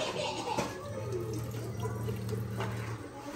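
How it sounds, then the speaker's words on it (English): Water runs from a faucet into a sink in an Ikea kitchen, a steady close splashing stream with a low hum and faint background voices. "Turn off the water, baby."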